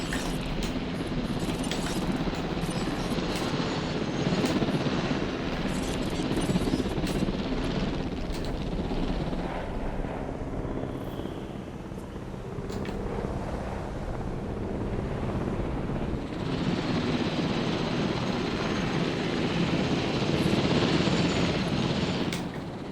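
Helicopter rotor and engine noise from the Jurassic World Evolution video game, a steady loud mechanical drone with a dense rumbling wash that dips slightly midway and swells again, with no talk.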